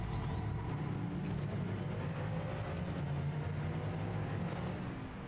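Cars in the Test Drive Unlimited Solar Crown racing game roar through an enclosed parking garage, a continuous close, low engine rumble with a steady, even drone.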